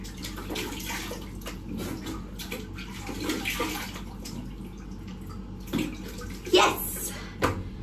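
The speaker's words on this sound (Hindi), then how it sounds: "जो पानी आ रहा है नलके से" Tap water runs steadily into a bathtub at home, a constant close splashing rush with a few louder splashes, while someone talks over it.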